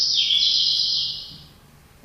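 A single bird's song, a bright sustained chirping trill recorded in a shower, loud and close for about a second and a half before it fades out.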